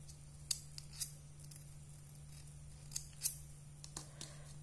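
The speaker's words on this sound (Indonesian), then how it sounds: "kita gunting ujung benangnya" Small scissors snipping the thread ends of a knitted beaded flower bracelet, a handful of crisp metallic snips spaced irregularly, close and quiet over a low steady hum.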